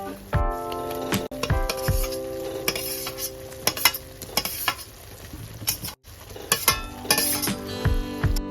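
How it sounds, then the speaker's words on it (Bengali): Fried cauliflower and potato pieces are tipped into a masala cooked in oil and stirred, giving steady sizzling with repeated scrapes and clinks of a spatula against the pan, close and without talk. "এবার আমি দিয়ে দেব ভেজে রাখা কফি এবং আলুটা"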